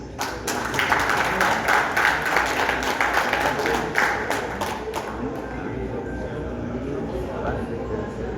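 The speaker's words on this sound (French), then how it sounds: "Sous vos applaudissements" Steady applause from an audience at a 40th anniversary ceremony of an electricity workers' union in Haiti, a continuous dense clapping wash that stays fairly loud throughout, with no one speaking over it.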